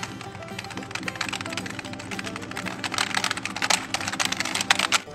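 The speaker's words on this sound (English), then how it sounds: "Me typing violently." Fast, hard typing on a computer keyboard, close up and loud, a dense rapid clatter of keystrokes that builds in force toward the end, with no voice over it.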